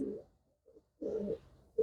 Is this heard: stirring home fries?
no